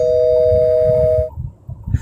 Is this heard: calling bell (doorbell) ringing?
yes